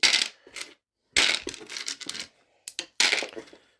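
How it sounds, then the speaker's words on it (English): Dice clatter onto a tabletop and are swept aside during a Warhammer 40,000 Warzone Nephilim game of T'au against Space Marines, arriving in several sharp, close rattling bursts separated by short silences. "Let's make some room and get rid of some dice."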